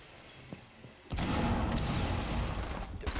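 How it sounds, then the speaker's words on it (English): In a Rainbow Six Siege match, a wall-breaching explosion erupts into a sustained roaring, crackling blast that stays loud and dense after a quieter lead-in with a few faint taps. "That explosion will mean they are starting to funnel in through construction"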